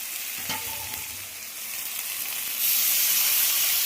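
A constant crackling sizzle of spice paste frying in hot oil, the paste already cooked down until the oil separates, close up, growing louder near the end.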